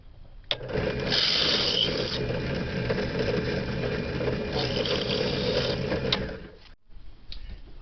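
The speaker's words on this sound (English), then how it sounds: "I am enlarging the holes, the pilot holes that I earlier made in the case cover" A power tool enlarges pilot holes in a Yamaha XS650 motorcycle side case cover held in a jig. It gives a sustained, close mechanical whir for about six seconds, with brief harsher bursts, then cuts out and restarts faintly.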